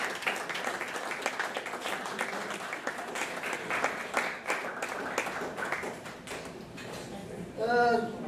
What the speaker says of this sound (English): give him a nice round of applause, please